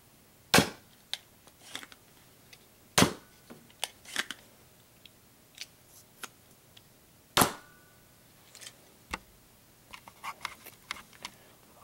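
Nerf gun firing modified darts tipped with thumbtacks, sharp clicky snaps spaced irregularly across the stretch with lighter ticks and handling clatter between, close and without speech.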